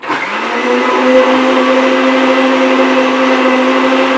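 A blender whirs steadily and loudly for about four seconds, mixing a protein shake of one-percent kefir and flax seeds, its motor holding a constant whine from start to end with no voices.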